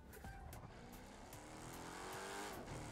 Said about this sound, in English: This is like the worst car ever.